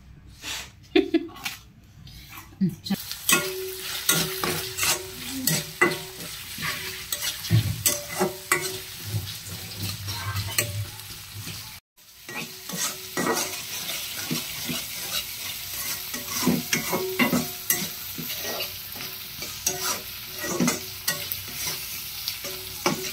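Onion and garlic frying in oil for a dried fish curry, a steady sizzle broken by repeated scraping and clattering stirs of a spoon in the pan, close and fairly loud.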